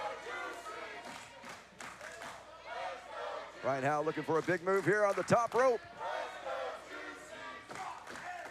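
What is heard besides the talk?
wrestling arena crowd cheering and chanting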